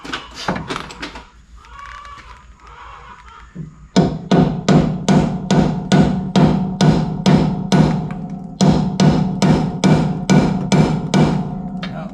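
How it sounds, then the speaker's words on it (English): A brass hammer strikes metal during a disc brake conversion on a 1960s muscle car, a steady, rapid series of sharp ringing blows, pausing briefly before resuming, loud and close. "Do I get out the brass hammer again?"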